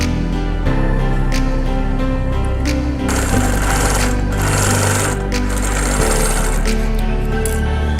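A sewing machine topstitches a wallet made from recycled fabric, running as a steady, close, loud mechanical whir with a few brief pauses and restarts.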